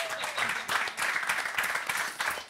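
Applause sound effect played during a Swedish livestream, a short burst of crowd clapping at moderate level throughout, with faint voices mixed in underneath.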